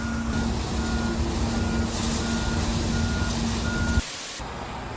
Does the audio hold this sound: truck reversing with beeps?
yes